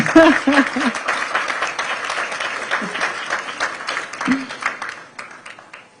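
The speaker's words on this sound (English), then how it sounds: "I think this is worth another applause, right?" Applause from the audience at a German-Nigerian business forum in Berlin, a dense, steady patter of many hands that slowly fades, with a few voices talking over it near the start and middle.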